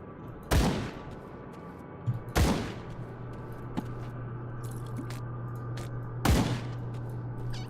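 Three spaced, punchy gunshots ring out in the action role-playing game Grim Dawn, each with a brief decaying tail, over a low steady drone and faint ticks.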